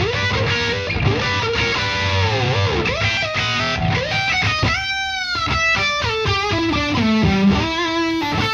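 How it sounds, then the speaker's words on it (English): Electric guitar lead with an Oceanway studio room simulation blended in, singing distorted notes with wide bends and vibrato, a sense of surrounding space, steady and prominent throughout. "there is an Oceanway plugin that simulates the space at Oceanway"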